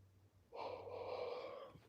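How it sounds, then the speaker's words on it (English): A person gives one long, voiced yawn that lasts just over a second, close and fairly loud, with no other sound around it. "I don't know why I'm yawning like I ain't take a 4-hour nap"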